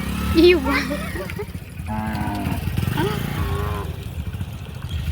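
Cows mooing on a road caught in a traffic jam, several loud drawn-out moos near and farther off, with engine rumble and people talking in the background.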